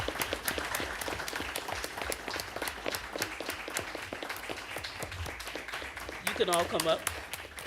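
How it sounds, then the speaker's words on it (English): Audience applause for Sue Nygaard and her team at a school board meeting, a moderate patter of clapping that runs throughout, with a speaker talking over it and a brief louder voice near the end. "Can we give them a round of applause?"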